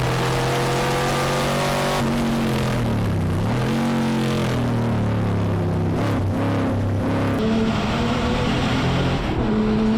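Cobra race cars in a four-hour endurance race at Dezzi Raceway, engines droning loudly with shifting pitch as cars pass, several overlapping near and far over constant track noise.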